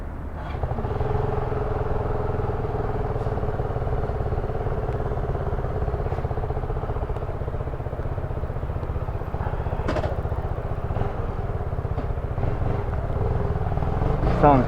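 A Zontes 310V motorcycle engine runs at a steady, loud idle throughout, a continuous low throb with some mechanical clatter; faint voices occasionally surface underneath.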